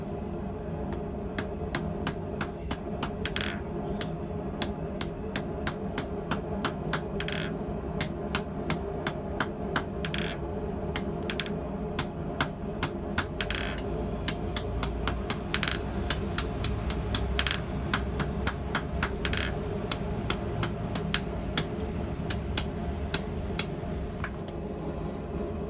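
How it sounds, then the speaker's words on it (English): A hammer strikes hot metal steadily while a blacksmith forges a combined square and round twist, sharp ringing blows repeating in fast, even bursts, close and loud, with no talking. "Now to let my new hammer sing and do its thing."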